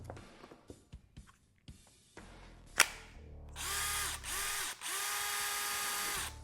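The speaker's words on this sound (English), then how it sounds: "see if we can get this drill running again" A DeWalt cordless drill whirs in several short bursts after some clicks and handling knocks, its motor spinning up and down close by.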